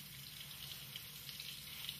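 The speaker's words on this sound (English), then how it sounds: "she takes the sample out again, washes it thoroughly with water" Running water rinsing a metal sample just pulled from etchant, a soft, steady splashing hiss under the tap, close and fairly quiet throughout.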